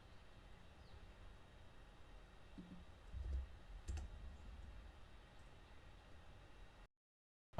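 Someone types a web address on a computer keyboard, producing faint, sparse key clicks over a low background hum, with a louder cluster of taps in the middle before the sound cuts to silence.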